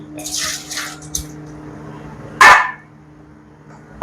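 Water drains from cooked rice in one brief, loud gush and splash, preceded by softer watery trickles and followed by quiet.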